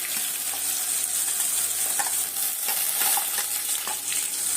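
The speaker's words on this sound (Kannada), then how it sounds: "ಇದನ್ನು ಚೆನ್ನಾಗಿ ಎಣ್ಣೆಯಲ್ಲಿ ಫ್ರೈ ಮಾಡ್ಕೊಳ್ಳೋಣ" Curry leaves and ground masala fry in hot oil for Andhra-style palak onion karam, giving a continuous bright sizzle and crackle close by, with occasional stirring scrapes.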